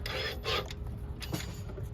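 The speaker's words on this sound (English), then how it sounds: "I think it's the transmission trying to kill itself." Grinding, rasping whine from a struggling Ford Focus transmission, heard up close as the car powers up, with repeated harsh rubbing bursts and no voices.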